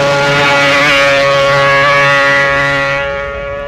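A 1965 Honda racing motorcycle engine screams at around 20,000 RPM at over 100 mph during the Isle of Man TT, a loud, sustained high-revving wail that holds pitch before fading as it passes.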